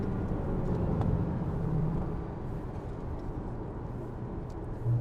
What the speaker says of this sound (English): The cabin is just filled with glorious wailing duction noise.